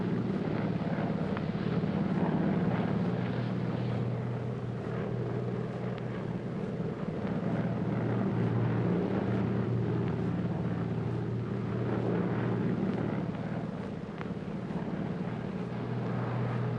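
Steady airplane cabin drone fills a 1940s passenger flight, a constant low rumbling roar with a smooth broadband hiss and no voices.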